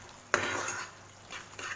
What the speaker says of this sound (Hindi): अब इसको हम मिक्स कर लेंगे अच्छी तरह